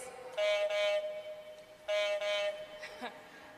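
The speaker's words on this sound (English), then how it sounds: "And 6R buzzer will sound like this." Electronic quiz buzzer for team 6R at a grade 6 academic bowl, sounding as two loud, sustained tonal blasts of about half a second each, separated by a gap, with a faint shorter beep afterward.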